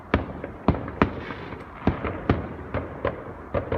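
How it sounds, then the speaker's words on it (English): Bonfire Night fireworks bursting at a distance, a dozen or so sharp bangs and pops at irregular intervals over a faint background hiss, with no talking. "Watching the fireworks."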